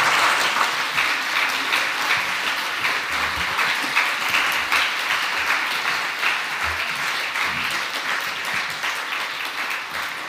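Sustained audience applause at the 2021 Australian of the Year Awards ceremony for the Australian Capital Territory: dense, even clapping from a large crowd holds steady throughout with only a slight easing near the end.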